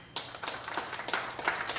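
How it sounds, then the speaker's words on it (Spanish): Church congregation clapping in response to a call from the pulpit, a dense run of quick claps building after a quiet start and continuing steadily, close and fairly loud in a reverberant hall. "Dale un aplauso al Rey de Gloria."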